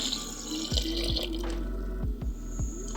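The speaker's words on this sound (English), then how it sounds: "I'm going to add half a cup of water." Water pours briefly into a container nearby, splashing and gurgling for a couple of seconds.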